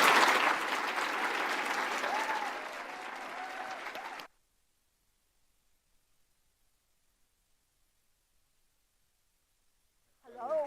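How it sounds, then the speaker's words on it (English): Loud applause from a crowd at a transit legislative conference for about four seconds, then near silence, with a voice starting at the very end. "So let's give a big round of applause."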